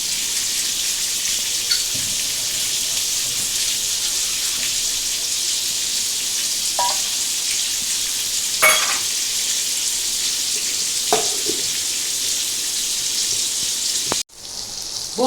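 Pointed gourd (potol) frying in oil in a kadai gives a steady, soft sizzle throughout, with a few faint clinks and stirring scrapes over it and a sudden drop near the end.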